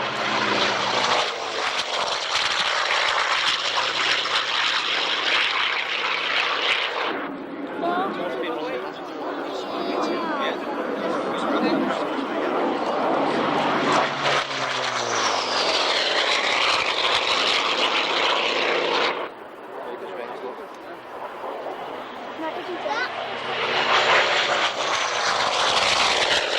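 Propeller aircraft engines drone loud and continuous during an airshow display, with the pitch rising and falling as the planes pass, under steady commentary.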